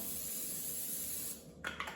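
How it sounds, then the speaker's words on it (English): Cooking spray hisses onto a baking pan for a squash casserole in one steady, close burst lasting most of the moment, ending with a couple of light clicks. "spray the pan so that the yellow summer squash do not stick to the bottom"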